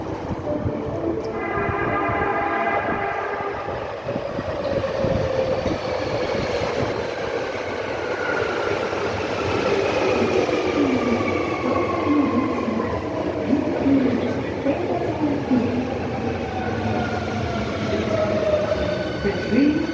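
A Japanese commuter train rolling along the rail line between stations in Osaka, with a steady loud rumble and rising and falling whine of the motors throughout, and a brief tonal signal near the start.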